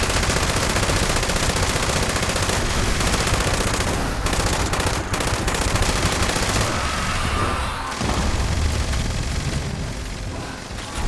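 Short rapid bursts of automatic gunfire in Fallout 76, loud and dense, clattering in quick repeated volleys with booming reports and no talking.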